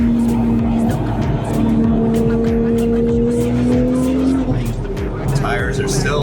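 A Porsche 997 Turbo drives with a loud engine drone that rises steadily in pitch through a gear, drops at a shift and then climbs again. Someone talks over it throughout.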